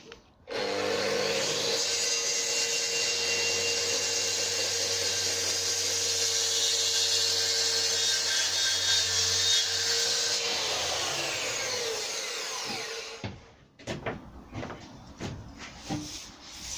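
A board ripped lengthwise on a saw for a hollow-core shoe shelf unit, a loud steady whining cut lasting about twelve seconds before winding down into quieter handling noises.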